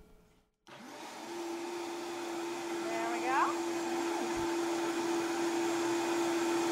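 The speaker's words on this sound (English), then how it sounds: "now we're going to put it in the blender and make it into a nice creamy sauce" A kitchen blender whirs steadily as it purées a macaroni and cheese sauce, starting abruptly after a brief pause and running on at an even, moderate hum, with a short spoken remark early on.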